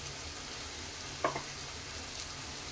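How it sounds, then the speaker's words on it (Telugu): Turmeric is stirred into a masala frying in a pan, giving a continuous sizzle with one short scrape of the spoon partway through. "వేసుకొని మంచిగా ఒకసారి కలిపేసుకుందాం"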